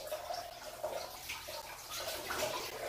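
Warm water runs steadily from a faucet into a tub while a dog is being bathed, a continuous close splashing flow with no talk over it.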